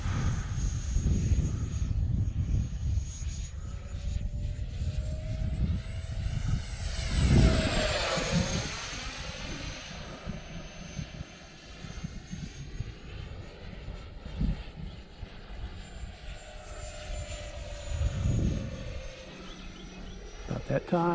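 A Thunderbird aircraft in flight, its engine giving a steady loud drone that swells and shifts in pitch as it climbs, with someone talking over it.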